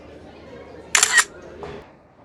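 Camera shutter snapping a selfie on a walk through Nassau in the Bahamas, one short crisp click-burst standing out over quiet outdoor ambience, followed by a softer second mechanical sound.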